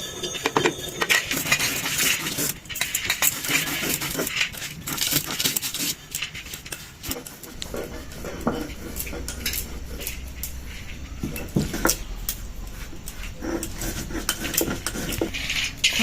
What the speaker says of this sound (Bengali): ভেজে রাখা মশলাটা আমি গুঁড়িয়ে নিচ্ছি।